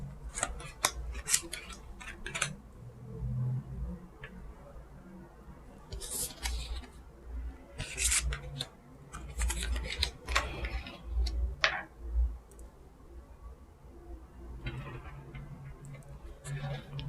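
Tarot cards being laid out on a table, with soft scattered slaps, flicks and shuffling clicks in irregular bursts, close and quiet over a low background hum.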